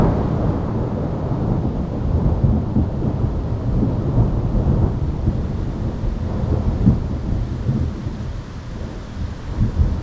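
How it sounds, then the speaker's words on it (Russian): A thunderstorm with steady rain in the Perm region of Russia, heard from inside a cave: deep, continuous rumbling thunder rolls on for ten seconds over a dense wash of rainfall, loud and close, with no voices. "начали потихоньку поливать дождем, который вскоре перерос в полноценную грозу"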